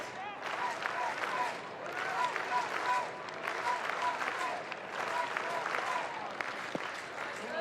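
Crowd at a college baseball game between Texas and Boise State applauding and cheering steadily throughout, a broad continuous wash of clapping with voices mixed in.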